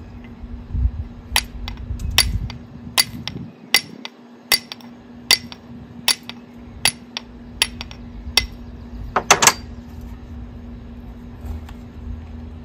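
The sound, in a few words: striking a fire striker to ignite char cloth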